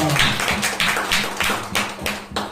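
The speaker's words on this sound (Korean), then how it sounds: "박수 한번 치겠습니다" Church youth congregation clapping together during a worship service, a steady run of rhythmic claps close and loud, about a dozen beats in under three seconds.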